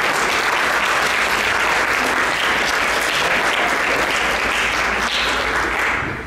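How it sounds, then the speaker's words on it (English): A large banquet crowd applauds wrestlers and coaches at a school wrestling banquet, producing loud, sustained, dense clapping that holds strong throughout and begins tapering off only at the very end. "I want to see if we can get a round of applause for all the wrestlers and all the hard work that they've done,"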